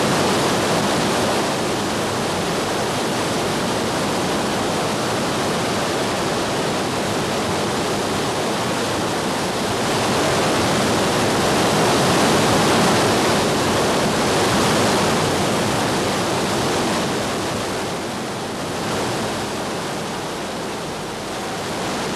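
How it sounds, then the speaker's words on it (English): Turbulent Ganga river rapids in the high Himalayas roar in a dense, continuous rush of water, loud and unbroken, swelling slightly at times; no voices. "a turbulent river in the high Himalayas"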